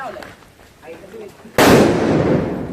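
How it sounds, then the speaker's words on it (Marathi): An item bomb firecracker goes off during Diwali with one loud, close, booming blast that rings out and decays slowly, after a moment of quiet chatter from friends. "गाइस आइटम बॉम्ब लागेल."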